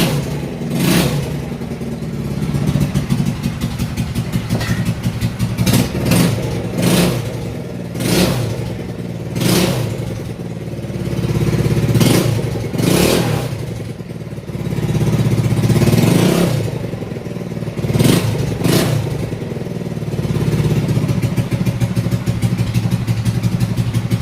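Small mini bike engine running loud and close, with a steady rough idle broken by repeated sharp throttle blips and revs, each burst of acceleration rising and falling over the clattering base drone.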